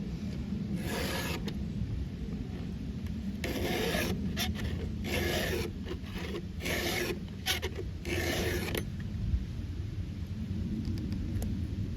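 A flat file rasps across a Stihl 500i chainsaw chain, taking down the raker depth gauges, in a steady run of close, rhythmic strokes broken by brief pauses, with no talk.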